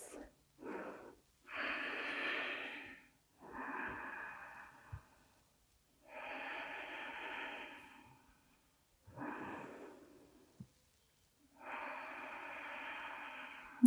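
Slow, deep breaths alternate between inhaling and exhaling, about six long airy breaths separated by short silences, close and soft with a slightly wheezy, nasal edge.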